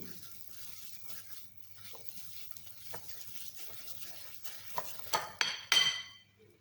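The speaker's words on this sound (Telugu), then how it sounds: "చూడండి, ఇలా మొత్తం అంతా కలుపుకొని" A spoon stirs eggless red velvet cake batter made with maida flour in a bowl, a soft steady mixing sound that ends in a few sharper scrapes and clinks against the bowl.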